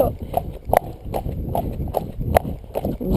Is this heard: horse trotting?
yes